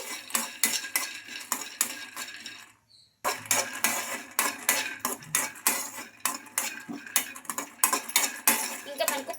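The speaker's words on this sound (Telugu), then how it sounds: "అందులోకి పల్లీలు అయితే వేసుకోవాలండి ఈ పల్లీలను బాగా ఫ్రై చేసుకోవాలి" Peanuts frying in a kadai, stirred with a metal spoon that scrapes and clinks rapidly and continuously against the pan, close and loud, with a brief pause near the start.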